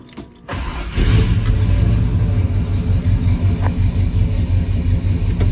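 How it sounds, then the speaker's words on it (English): A 1968 Chevrolet Chevelle Super Sport V8, left sitting all weekend, cranks briefly, catches and settles into a loud, close, lumpy idle with a steady rhythmic rumble that carries on for several seconds. "It's going to be a cold start."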